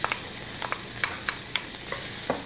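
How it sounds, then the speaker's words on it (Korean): Finely chopped onion fries in a pan for a practical cooking exam's hamburger sandwich. A steady close sizzle runs throughout, broken by repeated clicks and scrapes of stirring at a quick, uneven rhythm. "자, 이제 양파와 샐러리를 볶아 보도록 하겠습니다."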